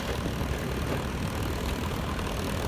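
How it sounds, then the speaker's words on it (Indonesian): A motorbike idles with a corroded exhaust that leaks, giving a steady, rough, hissing rumble that stays even throughout, with no talking. "suara knalpot bocor itu."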